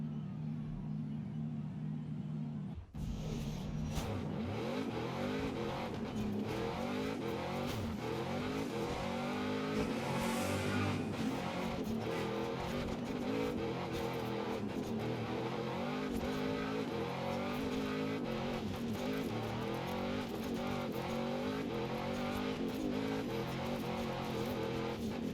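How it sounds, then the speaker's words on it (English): A stock Jeep Trailcat engine in Forza Horizon 5 roars and revs continuously for a long stretch, its pitch rising and falling with gear changes and a steady loud rumble underneath. "And this is a stock Jeep Trailcat."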